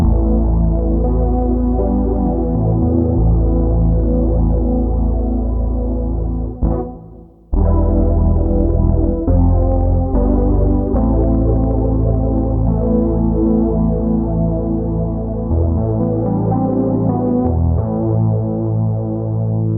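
A Modal Kodamo Mask1 synthesizer plays a sustained, gritty chordal patch through a bit crusher with a lo-fi, crunchy edge. Notes shift across several phrases with a brief cutoff midway.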